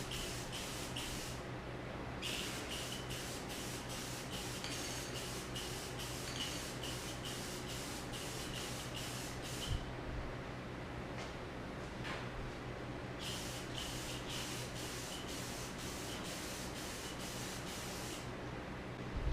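Rust-Oleum silver spray paint is sprayed onto a metal fuel tank in several hissing bursts separated by short pauses, fairly quiet and steady, with no voices.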